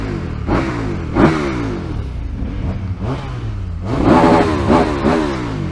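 Motorcycles on a touring ride, the engine droning and revving up and down steadily under heavy wind rush, close and loud throughout.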